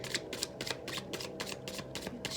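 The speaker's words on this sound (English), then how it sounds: "Shuffling your cards." Tarot cards are being shuffled: a quick, even series of soft papery riffles and slaps, repeated about eight times in a row, close and fairly quiet with no talking.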